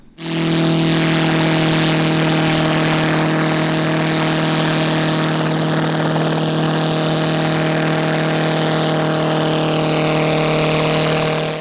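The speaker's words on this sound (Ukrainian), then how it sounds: "А вже потім Олександр піднімає машину у повітря" A small homemade helicopter's engine and rotor roar steadily at close range as it lifts off, a loud droning hum with strong tonal whine that holds for several seconds.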